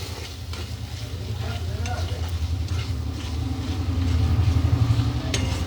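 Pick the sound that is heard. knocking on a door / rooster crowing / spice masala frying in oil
spice masala frying in oil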